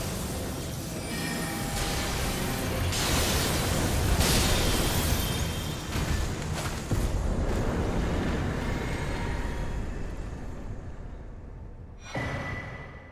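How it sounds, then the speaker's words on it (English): A gravitational missile spell cast in Elden Ring's Shadow of the Erdtree, a loud, dense rumbling burst that swells and holds for several seconds, then fades before a brief second surge. "Gravitational missile."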